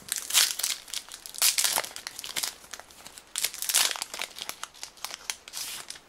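A Yu-Gi-Oh trading card booster pack wrapper crinkling loudly and close as it is handled and torn open, in repeated bursts of crackly rustling throughout.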